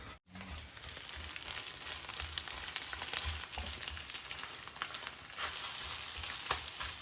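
Food frying in a pan while making egg fried rice, a continuous close hissing sizzle with a light crackle running steadily throughout, no voices over it.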